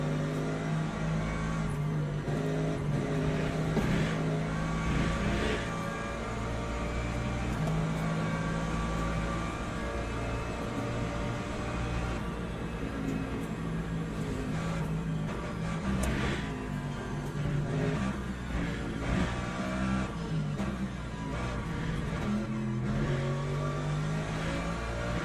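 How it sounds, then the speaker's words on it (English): Hypercar engines in the Le Mans Ultimate racing game drone steadily for about twenty-five seconds, their layered engine tones rising and falling as the cars rev and close in. The sound stays loud and continuous, with no talk. "Here come the hypercars."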